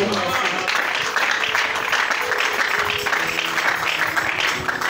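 A church congregation applauds to acclaim the Lord in a steady, dense wash of clapping that holds evenly throughout, with voices mixed in.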